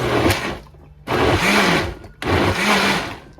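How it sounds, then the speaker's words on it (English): A blender pulses warm birria liquid under a towel in three loud, close whirring bursts separated by brief pauses, with no talking. "I have a towel over it, and I'm gonna pulse"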